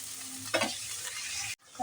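Water splashes into a frying potato curry (aloo dum), setting off a sudden loud burst of sizzling that settles into a steady close hiss with stirring before cutting off abruptly.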